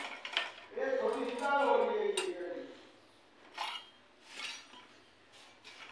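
A child plays with kitchen pots and pans, with clattering metal clinks and knocks in bursts, close by, while adults talk in between.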